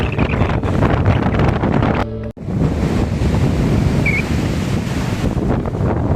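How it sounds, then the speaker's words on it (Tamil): Strong wind buffets the coast at Dhanushkodi, roaring steadily with gusty broadband rush and surf-like noise, loud and close, with one brief dropout partway through. "சரியான விண்டு அடிக்குது"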